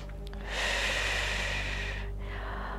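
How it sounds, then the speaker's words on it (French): A long, deep breath drawn during a prenatal yoga session, a steady airy hiss that swells and holds for about a second and a half before fading, with a brief second inhale starting near the end, close and alone. "On va prendre quelques grandes respirations ici."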